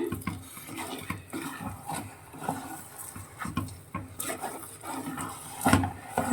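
A utensil scrapes and knocks against a heavy-bottomed pot in irregular strokes, stirring a thickening motichoor laddu mixture close by, with occasional clinks.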